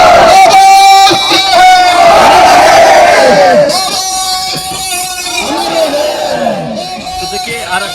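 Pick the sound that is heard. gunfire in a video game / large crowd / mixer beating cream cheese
large crowd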